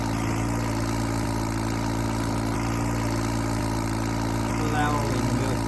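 A tractor engine idles steadily in Farming Simulator 22, a 5911 model stuck in thick mud beside a JCB, giving a constant low rumbling drone with a faint murmur of voices beneath it.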